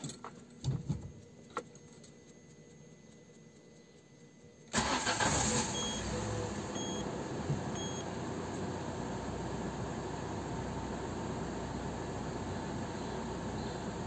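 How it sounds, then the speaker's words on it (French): A Peugeot 206 CC running on E85 fuel makes a cold start close by: a few seconds of quiet handling noises, then the engine abruptly catches and settles into a loud, steady idle. "Déjà, le démarrage à froid."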